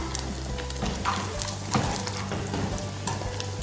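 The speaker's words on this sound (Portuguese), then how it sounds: "como que está o bacon da nossa farofa" Bacon sizzling in a pan while cooking for farofa, a dense, steady crackle and hiss with occasional stirring scrapes, close and continuous, with no voices.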